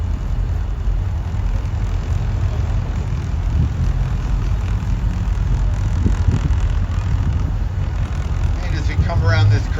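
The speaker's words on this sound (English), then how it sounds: "that noise you might be hearing behind the train right now is traffic on the Bronx River Parkway" Traffic on the Bronx River Parkway makes a constant, broad roar heard from a moving zoo train. The rumble stays dense and unbroken under the train's own noise, with a brief voice near the end.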